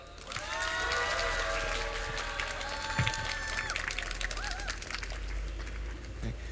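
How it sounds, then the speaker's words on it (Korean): An audience at an outdoor union rally for safe, gender-equal schools breaks into scattered clapping that builds into steady applause, heard at a moderate distance amid crowd murmur, with faint chirps and brief voices in the background. "세시비비 동지께 다시 한번 박수 부탁드립니다"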